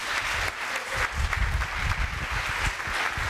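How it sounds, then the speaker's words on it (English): Audience applause for an emeritus professor of the University of Ibadan, a dense, steady wash of many hands clapping close and loud throughout, with no pauses. "Please, a big round of applause for our eminent emeritus professor"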